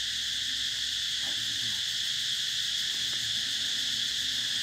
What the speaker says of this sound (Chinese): 我也觉得这个竹子上好多叽叽喳喳的